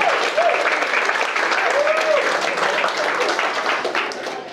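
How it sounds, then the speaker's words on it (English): Wedding guests applaud for a family member, a steady wash of many hands clapping at medium distance, with voices and a brief whoop or cheer rising through it before it fades slightly. "let's have a big round of applause for our father and uncle Brian"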